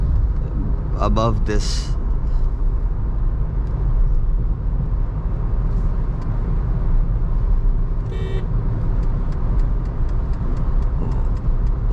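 A Skoda Slavia 1.5 cruises on a highway at about 1800 RPM, giving a steady, loud low rumble of engine and road noise inside the cabin. Brief ticking and clicking cut in, and someone talks over the drone.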